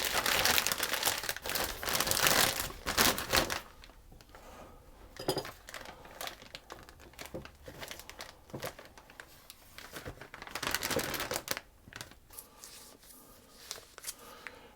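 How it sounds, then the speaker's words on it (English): A plastic piping bag being filled with icing for Christmas cake cupcakes: steady close crinkling and rustling of plastic, busier at the start and again near the end, with no talk. "So I'll just fill the bag."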